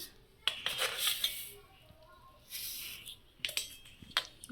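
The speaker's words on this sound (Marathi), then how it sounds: "आता यामध्ये आपण साखर टाकणार आहोत आणि एक दोन मिनटं छान हलवून घेणार आहोत" Sugar is stirred into thick fruit custard in a pot, with faint scraping and light metal clinks of a spoon against the pot, coming in short separate bursts. No one speaks.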